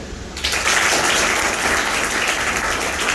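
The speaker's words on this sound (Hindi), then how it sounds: "लड़कियां तालियां बजाएं" Girls in an audience at a guest speaker's talk break into steady, dense clapping that starts abruptly after a brief quiet moment and continues evenly, fairly close and without speech over it.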